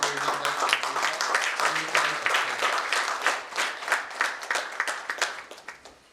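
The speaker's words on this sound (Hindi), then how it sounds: "आइए हम इनका तालियों से स्वागत करते हैं" Audience applause welcoming a speaker at a lecture introduction, a steady run of many hands clapping for about six seconds at moderate distance, fading toward the end, with a voice faintly underneath at the start.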